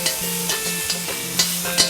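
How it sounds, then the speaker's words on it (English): Steady sizzling of onions frying with whole spices in a pan, with a few light stirring scrapes and clicks, close and continuous. "first I've started off by frying my onions in some whole spices"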